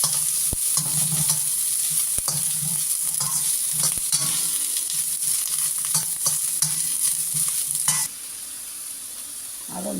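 Leek and other vegetables sauté in a hot pan for restaurant-style noodles, giving a loud, steady sizzle with repeated stirring scrapes that turns quieter near the end.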